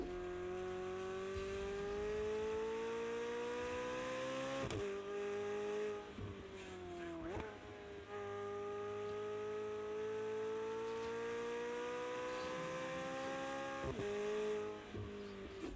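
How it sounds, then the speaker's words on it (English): A steady video game car engine drone with a high whining turbo whistle runs throughout, shifting pitch with gear changes and brief exhaust pops, no voices. "I mean, the turbo whistle and the exhaust."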